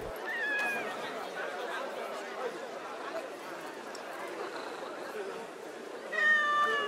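A cat in the video game Assassin's Creed Mirage meowing softly as it is petted, short faint mews at the start and end over quiet ambient game sound and a talking voice.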